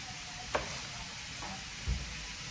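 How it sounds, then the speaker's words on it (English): Sausage frying in a pan on a kitchen stove gives a faint, steady sizzle throughout, broken by a couple of small clicks and a soft low bump near the end. "My sausage cooking over on the stove behind this pot"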